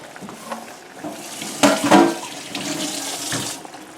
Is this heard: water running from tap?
yes